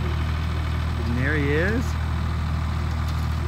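Tractor engine idles with a steady low rumble outdoors on an orchard clearing, while a person speaks briefly over it.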